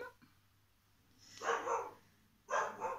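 A small dog barks indoors in two short bursts, fairly close and moderately loud, with quiet room noise between them and no talking.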